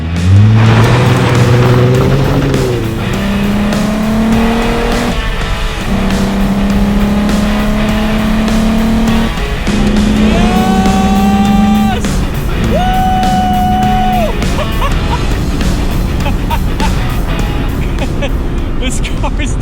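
A VW Mk1 Caddy pickup with a swapped-in TDI diesel engine drives hard, its loud engine note rising and falling through several gear changes, heard close up from inside the cab, with someone speaking over it.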